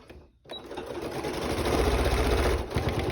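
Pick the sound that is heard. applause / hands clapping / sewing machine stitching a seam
sewing machine stitching a seam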